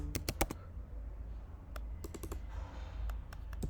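Typing HTML text on a computer keyboard, with quick bursts of sharp key clicks, a pause, then another rapid run of taps, close and clear over a quiet room.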